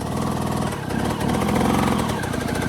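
An off-road engine holds steady revs while climbing slippery waterfall rocks, a close, loud, rough drone with a throbbing rhythm that rises slightly partway through, with no voices.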